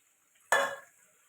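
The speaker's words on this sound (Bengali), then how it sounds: "এটা ভালো করে কষাতে থাকবো।" Chicken spice masala is sautéed and stirred in a pan, giving one short, close sizzle that flares suddenly and fades within half a second, alone in a quiet kitchen.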